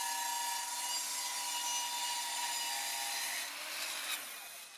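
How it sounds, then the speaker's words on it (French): A 2000 watt saw cuts through wood as a loud, steady buzzing whine that holds for several seconds and then eases off near the end, with no voices. "Une scie de 2000 watts."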